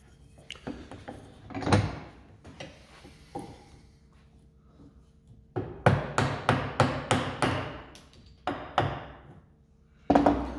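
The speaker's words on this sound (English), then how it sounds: "I'm going to very carefully remove the rest of this material with the chisel" Mallet blows on a chisel paring waste wood from a dovetail halving joint for a pot stand, a few scattered knocks followed by a rapid series of sharp, loud, close strikes, with no talking.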